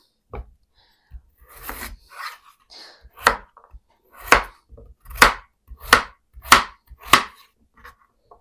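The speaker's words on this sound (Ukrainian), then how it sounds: "Картоплю нарізаю невеликими шматочками." Potatoes being chopped into small pieces with a knife on a board for a mushroom cheese soup, a run of sharp, close knocks growing into a regular rhythm of about seven firm chops.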